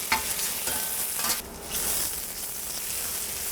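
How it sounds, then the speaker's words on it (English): Onions stir-fry in a wok, turned over with a metal wok spoon: a continuous close sizzle with sharp scraping strokes and a brief pause mid-way, no talk. "I switched to my wok spoon because with this, it's a lot easier to turn things over."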